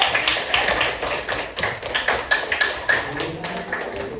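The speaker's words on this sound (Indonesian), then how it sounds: "kasih tepuk tangan untuk yang maju" A classroom of students claps in applause for classmates who came forward, a dense, steady patter of many hands close by with no talking over it.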